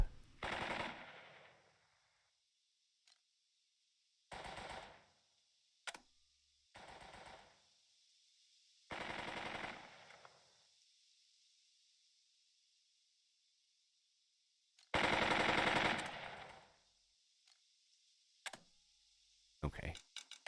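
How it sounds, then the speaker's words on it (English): Machine guns firing in the WWI strategy game Burden of Command, heard as several separate bursts of rapid gunfire spread across the stretch, some short and one longer, loud against quiet gaps. "I want to get my machine guns up."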